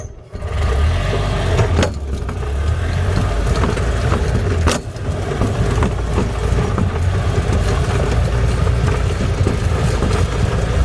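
A Freightliner Columbia Parcar golf cart with a flat tire drives off, its engine running steadily and loud up close with a continuous rumble and a couple of brief knocks along the way.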